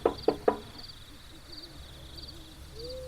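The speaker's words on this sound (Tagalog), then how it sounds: "Ilang sandali pa, may kumatok sa kanilang pintuan." Three sharp, evenly spaced knocks on a wooden door open the moment in a narrated horror tale, followed by faint owl hoots in the quiet night background.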